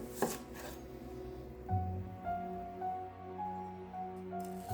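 An onion chopped with a knife on a cutting board, a few soft, separate cuts spaced irregularly, quiet and close, with low hum in the background.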